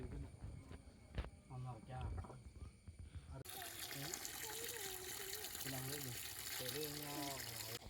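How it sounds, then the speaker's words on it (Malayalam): Water drained out of a tank through a pipe in a forest area, heard as a steady gushing pour that grows louder and more continuous partway through, with people talking over it. "നമ്മൾ പൈപ്പൊക്കെ ഇട്ട് ഇതേ വെള്ളം വറ്റിക്കുകയാണ്"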